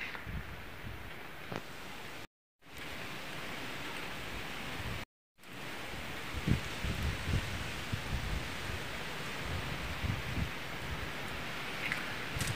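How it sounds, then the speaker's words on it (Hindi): Steady rain falls in the high mountains in a dense, even hiss, broken by two brief silent gaps, with no voices. "ये देखिए जी, बारिश जी शुरू हो चुकी है।"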